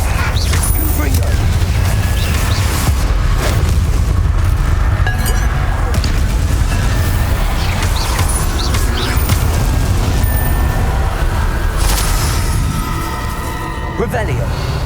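Explosive fire-spell blasts in the video game Hogwarts Legacy, loud booming bursts with crackling debris amid constant battle noise and game voices, dense and close throughout.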